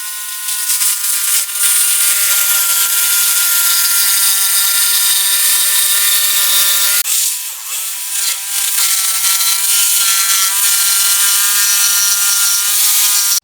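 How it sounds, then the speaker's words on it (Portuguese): A power saw cutting a wooden piece for a car speaker box sends out a loud, sustained high whine with steady tonal harmonics, briefly dipping and bogging around the middle before resuming at full speed. "Agora eu vou preparar para apoiar essa peça para eu poder cortar sem problemas."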